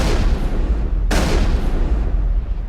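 Gunfire in the Mass Effect video game: a steady, loud bed of rumbling shots and low booms, with one sharp, close crack standing out partway through and no talk over it.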